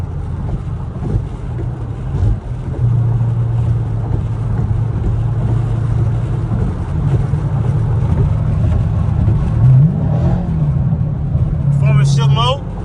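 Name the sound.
sports car engine with muffler delete accelerating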